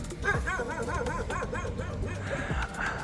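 Street dogs in Hua Hin bark in a quick run of yips, fairly close and continuous over a background of outdoor noise.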